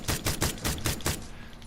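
Rapid burst of about six suppressed SKS rifle shots in PUBG on the Miramar map, evenly spaced and punchy, fading into a lingering tail.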